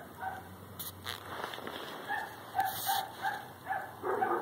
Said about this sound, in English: Neighbor's dogs are just irritating.